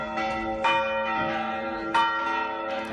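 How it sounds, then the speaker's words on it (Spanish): A church bell rings out with rich, sustained harmonic tones, struck a few times so each new toll swells over the lingering hum of the last. "vamos a escuchar la campana número 4"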